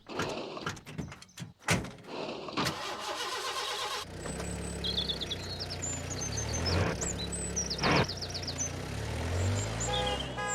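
Postman Pat's post bus, a small van, cranks and catches after some clattering movement, then idles steadily at close range while bright chirping sounds and a brief toot sound over the engine.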